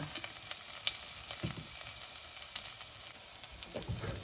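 Garlic sizzles steadily in hot frying oil, a dense continuous crackle with occasional louder pops and stirring scrapes, close and alone without talk.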